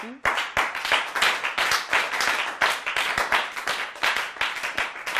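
A church congregation applauds with steady rhythmic clapping, many hands together, loud and close, continuing throughout with faint voices mixed in.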